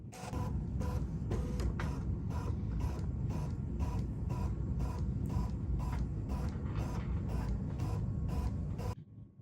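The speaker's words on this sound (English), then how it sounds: "And now it's going to start to scan." A BERNINA 990 sewing machine scans fabric with a continuous mechanical whir broken by regular creaking clicks, about two per second, close and steady before stopping abruptly.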